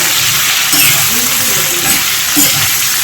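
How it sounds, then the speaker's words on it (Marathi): Cashews fry in a pan over a low gas flame, making a close, continuous sizzle with light stirring scrapes and small swells in loudness. "फक्त काजू टाकायचे मस्त त्याच्यात आणि कमी गॅस करून द्यायचं आता"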